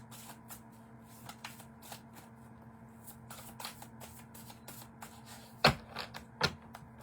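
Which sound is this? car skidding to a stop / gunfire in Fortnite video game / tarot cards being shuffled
tarot cards being shuffled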